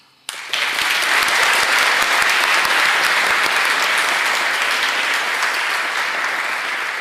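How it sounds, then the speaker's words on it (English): A crowd at a scholarship award event breaks into one big round of applause for the recipients, starting abruptly after a brief quiet and holding a loud, dense roar of clapping to the end. "let's give all of the scholarship recipients one big round of applause"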